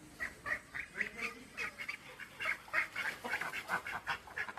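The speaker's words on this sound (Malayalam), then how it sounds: "കോഴിക്കും വാത്തകൾക്കൊക്കെ ഫീഡ് കുറച്ച് കൊടുക്കാൻ പോകും." A flock of geese and hens waits hungrily for feed, giving a string of nasal honks and quacks in quick irregular bursts at moderate distance, fairly faint, without any talking.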